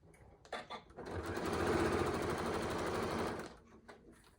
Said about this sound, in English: I'm just going to sew off there.